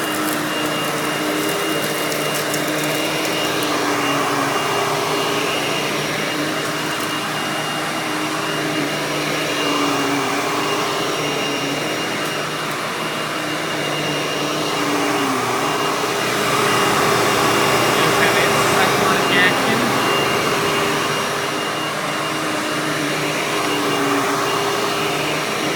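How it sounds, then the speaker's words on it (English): Hoover bagless twin chamber upright vacuum cleaner motor running steadily, a loud continuous whirring drone with a high whine that holds throughout, no talking. "that one does have a different sounding motor compared to the normal wind tunnel"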